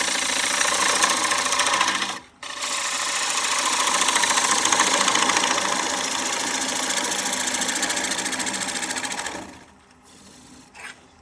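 A woodturning lathe spins back up to speed during a depth-gauge job, a steady broadband whirring rasp that runs loud and even for about nine seconds after a brief stop, then drops off to a quieter hum.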